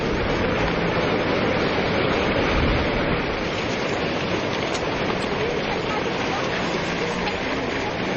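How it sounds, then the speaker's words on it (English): Tsunami waves surging into the city of Kamaishi, Japan, in 2011, a dense, continuous roaring wash of churning water that stays loud and steady throughout with no clear breaks. "National broadcaster NHK captured the moment the waves hit the city of Kamaishi."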